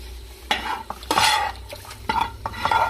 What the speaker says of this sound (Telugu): దీన్ని రెడీ చేసి పెట్టుకున్న బగారా తాలింపుని మనం ఇప్పుడు కడిగి పెట్టుకున్న రైస్లో వేసేసుకుందాం.